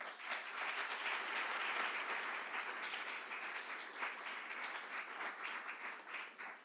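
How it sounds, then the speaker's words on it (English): Sustained audience applause fills a graduate education award ceremony, a steady wash of many hands clapping at moderate level for several seconds with no talk over it. "let's give them a round of applause"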